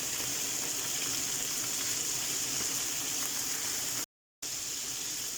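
Pork pieces frying hard in a single pan, spitting and crackling as their water hits the hot oil, a dense steady sizzle that holds loud throughout with one brief break near the end.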